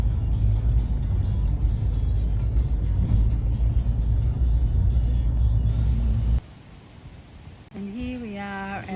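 A car drives along a road through Murray-Kulkyne, a steady loud engine and tyre rumble lasting several seconds before cutting to quieter surroundings with a voice speaking.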